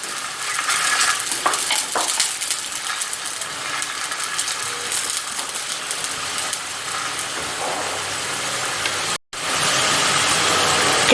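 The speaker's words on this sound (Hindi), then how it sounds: "क्योंकि ये डीप फ्राइंग होता है इसलिए हम थोड़ा तेल जो है ना इसमें ज़्यादा शामिल कर रहे हैं।" Arabic mutabak paratha fries in plenty of oil over a slow flame, a steady close hiss with fine bubbling crackle and occasional scrapes, cutting out briefly near the end before resuming.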